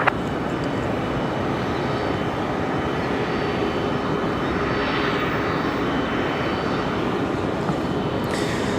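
Airbus A321 airliner from Philadelphia at Raleigh Durham airport, a steady broad engine roar that holds level throughout, heard from a distance with no voices.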